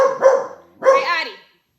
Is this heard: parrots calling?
no